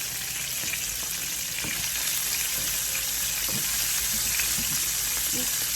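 Salmon fillets fry in a home pan with a steady, close sizzle throughout, broken by faint scrapes and small clicks of handling.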